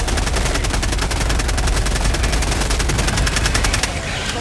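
Loud, continuous rapid automatic gunfire from the video game Helldivers, dense and sustained for several seconds with no talk over it, cutting off near the end.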